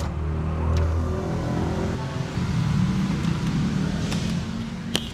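A Toyota Innova Zenix Hybrid moves through congested traffic, its engine and road noise a steady low hum with rising acceleration, a few faint clicks and passing vehicle sounds around it.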